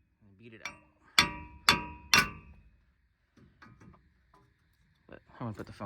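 A big hammer beats on the wheel hub assembly of a 2012 Ford F-150 2WD, landing three loud, evenly spaced metallic clangs up close, then quieter handling noises and some talk.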